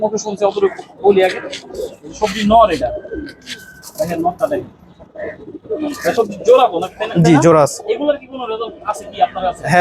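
Pigeons coo repeatedly in the background while a person talks steadily over them close by.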